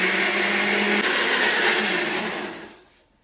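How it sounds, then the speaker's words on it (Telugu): A kitchen mixer grinder whirring loudly as it grinds ridge gourd peel with water into a smooth paste, a steady high-pitched motor drone that winds down and fades near the end. "బీరకాయ పొట్టు కూడా తెచ్చుకొని అవసరమైన నీళ్లు పోసుకుంటూ మెత్తగా మిక్సీ పట్టుకోవాలి"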